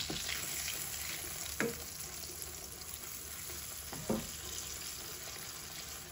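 Soft scrambled egg fries gently in star margarine, giving a steady quiet sizzle with two soft clicks of stirring, close and unaccompanied by talk.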